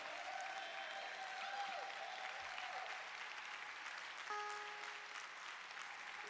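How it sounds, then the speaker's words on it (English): A forum audience gives sustained applause for a visiting guest from West Africa, steady and fairly distant throughout, with a faint voice and a brief tone near the end. "Give him a loving round of applause."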